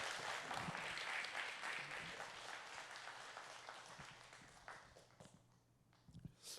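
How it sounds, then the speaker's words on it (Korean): A church congregation applauds at a Wednesday prayer meeting, a dense wash of clapping that slowly thins and fades over several seconds, ending in a few scattered claps. "우리 박수 한번 해주시면 좋겠습니다"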